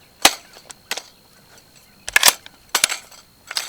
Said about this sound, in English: So we're going to take this mag, put it back in again.